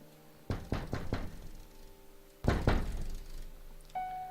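Knocking on a door in The Cat Lady video game: two close bursts of three or four sharp, heavy knocks separated by a quiet pause, followed by a faint tone.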